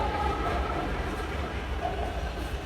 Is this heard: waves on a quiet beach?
no